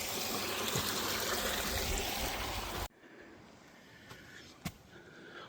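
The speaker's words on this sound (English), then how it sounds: "Nice brook." A brook flowing beside a woodland trail, a steady close rush of running water that cuts off abruptly halfway through, leaving quieter outdoor ambience with a couple of faint knocks.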